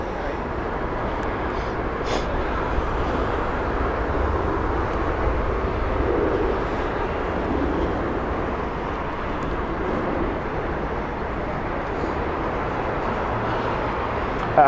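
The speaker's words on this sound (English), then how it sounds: "Austrian Airlines next. This is the Vienna flight, Airbus A320 Neo coming in." An Austrian Airlines Airbus A320neo on final approach at Heathrow Airport, heard as a steady, broad roar holding level and fairly distant the whole time, with no voices over it.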